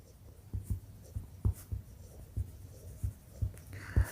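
Handwriting during a maths lesson, a string of close scratchy strokes and taps at an uneven pace, each mark short and distinct against a quiet room.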